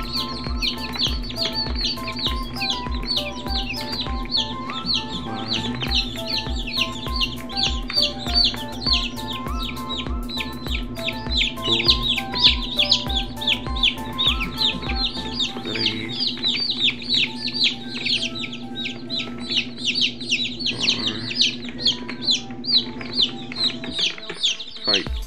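Chicks peep and cheep continuously and loudly at close range while being given water one at a time before going into a brooding box, with a steady busy chorus throughout.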